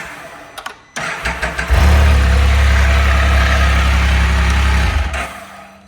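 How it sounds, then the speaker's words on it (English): A motorcycle engine cranks with a few stuttering bursts, catches and settles into a loud, steady idle close by before shutting off near the end. "when you start the bike, the accessory comes on"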